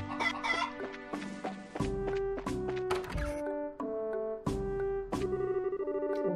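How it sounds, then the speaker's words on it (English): Chickens cluck in the Trails in the Sky video game, a series of sharp, repeated clucks and short squawks with dull thunks between them and no talk. "Chickens!"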